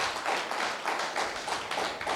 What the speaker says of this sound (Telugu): పోస్ట్ గ్రాడ్యుయేషన్తో పాటు ఇంకా ఏదైనా అదనపు క్వాలిఫికేషన్ వాళ్ళు చప్పట్లు కొట్టండి.